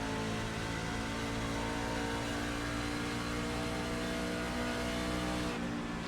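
Race truck engines droning in an iRacing simulation of a truck race at Homestead, a steady loud mechanical roar with sustained harmonic whine, continuous and close, no talking.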